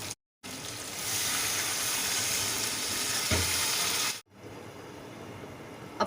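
Beef frying in a pot while cooking pulao, a steady close hiss of sizzling that drops out briefly at the start and again near the end, with a soft clatter midway and no talking.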